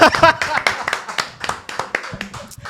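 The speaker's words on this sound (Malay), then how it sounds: "Baiklah tuan-tuan perempuan, berikan tepukan kepada A. Samad Said." Scattered audience clapping for the poet A. Samad Said, a few sharp close claps that rise and thin out over a couple of seconds, with no speech over them.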